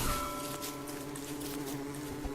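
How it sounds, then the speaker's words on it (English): Bees buzzing in the video game Don't Starve, a steady layered hum that holds for a couple of seconds with soft light patter in the background. "I hear the bees."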